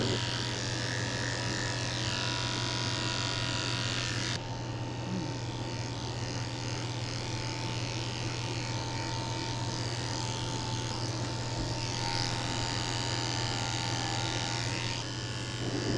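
Electric clippers buzz steadily while shaving a Shih Tzu's fur, trimming a potty path under the tail. The hum stays close and continuous, with the pitch shifting slightly as the blade moves.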